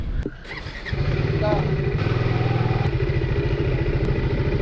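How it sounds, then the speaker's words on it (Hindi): A motorcycle engine on a road trip through the Amboli Ghat revs up and settles into a loud, close, steady idle with a pulsing throb, while people talk nearby. "मेरी सबसे कम माइलेज दे रही है बाइक।"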